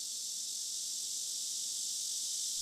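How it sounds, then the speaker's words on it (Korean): A summer cicada drones in a steady, high, hissing buzz that holds unbroken and fairly loud from start to finish. "여름이면 쉽게 볼 수 있는 매미."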